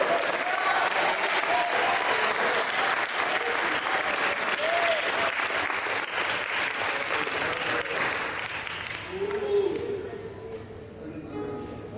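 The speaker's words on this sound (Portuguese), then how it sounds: "Você pode aplaudir o Senhor?" Congregation at a church service applauds with sustained, dense clapping that fades slightly toward the end, with a few voices calling out over it.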